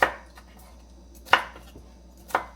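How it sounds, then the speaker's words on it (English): A knife chopping onions and peppers on a cutting board during Thanksgiving prep, heard as three sharp, close chops spaced about a second apart over a faint background hum. "Onions, peppers, chopped, done."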